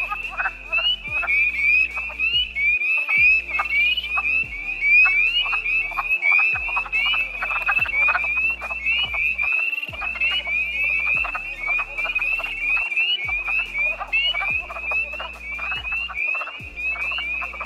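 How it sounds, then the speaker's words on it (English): A dense chorus of frogs calls continuously, rapid clucking croaks layered over a steady high trilling, loud and close with no pauses. "the wood frogs actually start to drown out the spring peepers"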